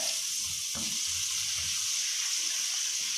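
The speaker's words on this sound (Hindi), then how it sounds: "ऑयल हमारा गर्म हो चुका है। इसमें अदरक लहसुन का थोड़ा सा पेस्ट डालेंगे।" Ginger garlic paste fries in hot oil in a kadai for chicken spaghetti, giving a steady close-up sizzle with a brief scrape of stirring near the start.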